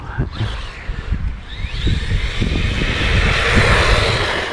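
A 1/16 MJX-clone brushless RC truck by Evmore running at full throttle with wheels spinning, a high whining motor that rises and holds steady, close and loud, over rough ground noise.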